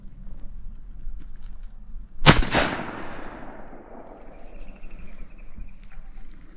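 A single loud shotgun blast during a dove hunt in a cattle pasture, sharp and close, its report rolling away over the next couple of seconds against quiet outdoor background.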